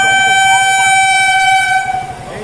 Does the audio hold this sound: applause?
no